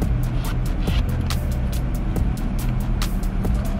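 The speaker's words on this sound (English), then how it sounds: "that car just came over there like they running from somebody." A car passes nearby, a steady engine and tyre rumble with rushing road noise, moderately loud and close, with faint voices in the background.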